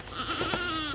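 A goat gives a single sustained, wavering bleat, close and fairly loud, lasting under a second.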